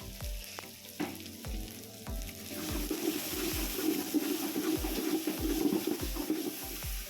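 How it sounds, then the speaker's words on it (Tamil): Ginger-garlic paste and whole spices sizzle and fry in a hot pan for chicken curry, a steady crackling sizzle broken by repeated scrapes and knocks of a spoon stirring, close and continuous with no talking. "இஞ்சி பூண்டு பேஸ்ட் அரைச்சி வச்சுருக்கிற பட்டை கிராம்பு சோம்பு 2 டீஸ்பூன் ஆட் பண்ணி நல்லா வணக்கி விட்டுக்கிறேன்"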